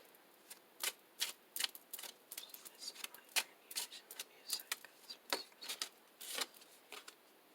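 Tarot cards shuffled and drawn, a series of soft, crisp card snaps and flicks in an irregular patter, close and fairly quiet over a faint hiss, with no voices.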